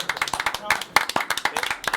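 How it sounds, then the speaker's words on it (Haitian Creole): A small group claps in a quick, uneven patter of close hand claps lasting a couple of seconds. "Oui, nous allons applaudir, ça belle"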